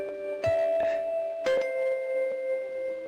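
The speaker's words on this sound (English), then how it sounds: "what type of school bell is that?" A school bell in the video game Honkai Impact 3rd rings out in two clear chime strikes, each with a sustained ringing tone that lingers and fades between hits.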